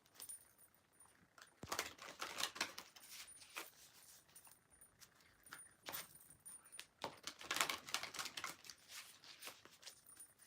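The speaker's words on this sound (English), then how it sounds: "Let's shuffle these cards." A deck of cards is shuffled in short, faint bursts of crisp riffling and flicking, several quick flurries in a quiet room with no talk.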